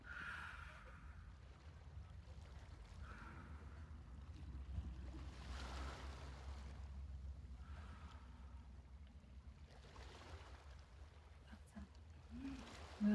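Ocean waves during a massage and Reiki session: soft, steady wash of surf rises and falls in slow swells, faint and continuous, with no talk.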